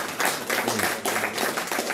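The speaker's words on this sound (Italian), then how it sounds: "facciamo un applauso" Studio audience applause during an Italian talk show debate, a steady dense wash of clapping at moderate level lasting the whole moment, with faint voices mixed underneath.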